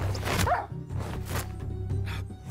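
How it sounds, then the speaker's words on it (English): A dog barks and yips in an animated Minecraft film amid busy background sound, with a short whimpering edge between the barks. "Oh, big dog!"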